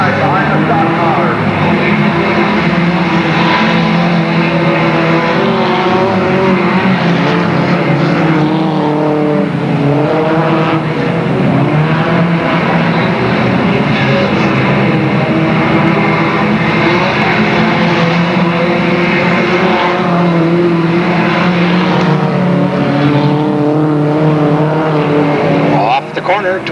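Stock cars race around Delta Speedway on the final lap, engines droning loud and continuous throughout, with a race announcer talking over the roar the whole time.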